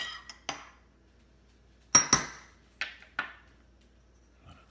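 Tomato seeds stirred in water in a container, heard as a few sparse, sharp clinks and knocks of a utensil against the vessel, close by with quiet gaps between them.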